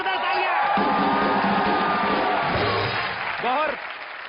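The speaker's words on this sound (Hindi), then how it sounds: "एक बार गौहर खान के लिए जोरदार तालियां" A studio audience on a comedy show applauds and cheers a celebrity guest, loud clapping mixed with whoops and crowd noise, while voices shout and talk over it near the end.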